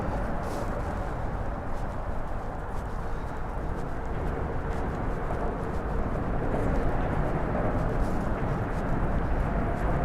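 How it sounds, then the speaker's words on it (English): Steady broadband traffic roar from the West Side Highway in Manhattan on a winter day, continuous and fairly loud throughout with no speech. "The sound you hear, West Side Highway."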